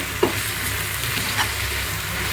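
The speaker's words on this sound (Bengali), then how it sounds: "দেখেন নাড়াচাড়া করতে করতে শাক সেদ্ধ হয়ে যাচ্ছে।" Jute leaves frying in a pan while being stirred, a dense, even sizzle with a couple of soft spatula knocks, close and steady over a short stretch, with no talking.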